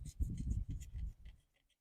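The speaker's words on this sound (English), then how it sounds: "this paper is tougher than what you think. It doesn't cut super easy." A sharp knife slices through a tough paper bag of growing medium for microgreens, giving a close scraping, rasping cut that rustles in bursts for over a second before fading to quiet.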